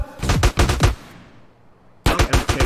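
Rapid automatic gunfire in GTA San Andreas comes in loud, close bursts: a volley of quick shots, a brief lull, then another burst.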